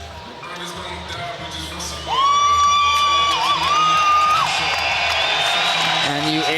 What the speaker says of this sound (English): you instantly listen to the crowd here as they welcome this guy